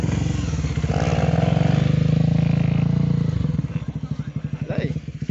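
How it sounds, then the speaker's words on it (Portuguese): A motorcycle revs hard as its rider pulls a wheelie in a tight space, the engine loud and close, rising and falling with bursts of throttle while people shout and cheer over it. "vocês nunca não viram o Godzilla empinar de moto, tem um empinando aí, ó."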